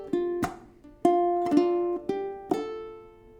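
Ukulele with the thumb striking the strings while the first string rings open, several plucked notes in a slow, uneven rhythm, each decaying cleanly, close and clear.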